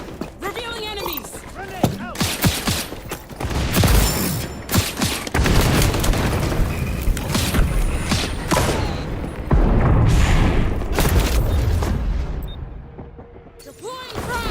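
XDefiant gameplay in which a grenade blast and bursts of gunfire crash out over a busy mix of game voice lines and impacts, loud and close, with speech in between.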